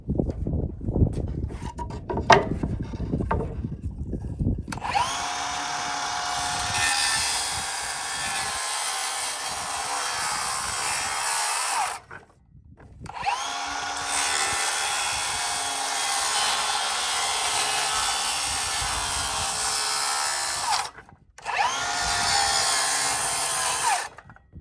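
A power saw cuts wooden studs for shear panel blocking in a modern mountain home build. Handling noise comes first, then two long, steady, loud cuts and the start of a third, with brief pauses between them.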